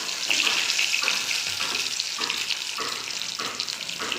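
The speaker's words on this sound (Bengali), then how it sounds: "কালো জিরেগুলো ভাজা ভাজা মতো হয়ে গেছে। এবার দিয়ে দেবো আমি কেটে রাখা কচু।" Cut taro pieces fry in hot oil with nigella seeds in a Bengali kitchen, giving a steady broadband sizzle with rhythmic stirring surges throughout, no voices present.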